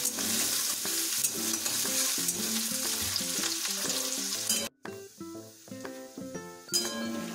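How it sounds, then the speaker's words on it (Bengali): Chopped onions sizzle steadily in a hot wok while a utensil stirs them, with light clinks against the metal over a continuous frying hiss and some faint background music. "পেঁয়াজ কুচি যোগ করে দিয়েছি, তাকে আমরা কিছু নাড়িয়ে দেবো"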